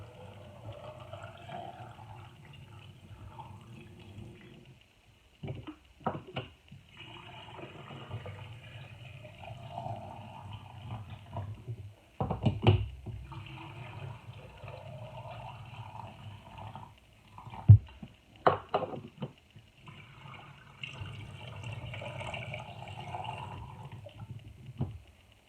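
Plain cold water running from a tap on a home canning day, a faint steady stream that stops and restarts several times, with a few brief louder knocks and splashes between runs.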